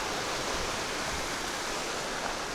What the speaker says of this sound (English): I just don't know if I'll be able to cross this creek.